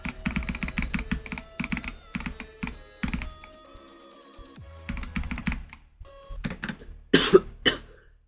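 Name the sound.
person coughing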